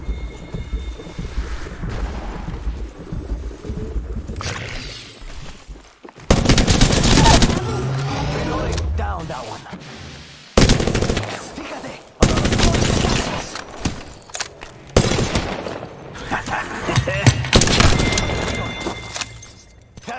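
Gunfire in the shooter Apex Legends, with dense, loud rattling bursts and heavy blasts coming in several waves amid booming effects, a voice speaking briefly in between.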